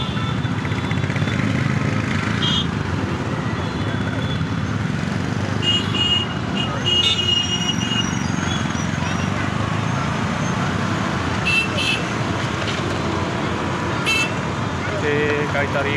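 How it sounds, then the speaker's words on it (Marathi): Steady roar of busy road traffic with occasional short car horn toots, heard continuously and close while a cake shop is being sought on the street; faint voices may be present in the background. "ट्रॅफिक काय पिछा सोडत नाही आज."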